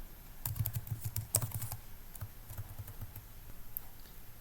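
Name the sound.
typing text into a Notepad file on a keyboard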